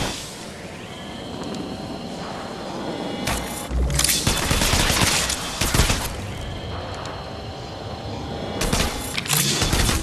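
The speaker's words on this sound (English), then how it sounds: "Another squad's attacking. I'm taking shots." Repeated bursts of automatic gunfire from battling squads in the mobile game Apex Legends Mobile, loud and dense, with heavier volleys clustered in the middle and near the end over steady game ambience.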